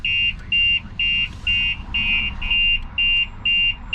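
A StarLine S96 alarm on a 2018 Toyota GT86, triggered by the door opening and ignition, sounds as a steady series of about nine evenly spaced high electronic beeps over a low engine rumble.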